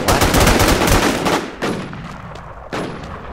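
Rapid gunfire from the online shooter game War Inc: Battlezone, loud and dense bursts that drop away briefly twice before firing resumes, with no voices.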